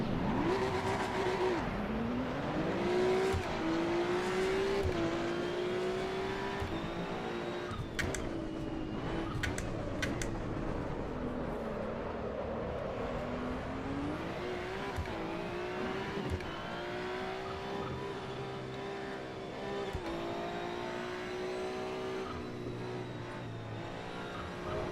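A race car in Assetto Corsa EVO accelerates at full throttle from a standing start in first gear, its engine note climbing and dropping through repeated revs. Loud and close throughout, with brief tire squeal and no voices.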